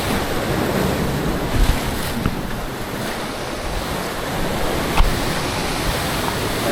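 Constant roar of surf and wind outdoors at Susay Rock, a giant trevally fishing spot, with waves washing in and a few heavier surges breaking through the noise.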